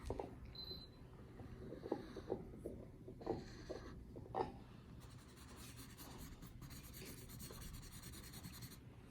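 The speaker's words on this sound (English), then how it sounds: "So I'm going to go ahead and cut this rectangle in half." Scissors cut a paper rectangle in half along its diagonal, giving soft rustling and snipping in a quiet room, with a few louder crisp bursts early on and a steady faint rasp of paper handling toward the end.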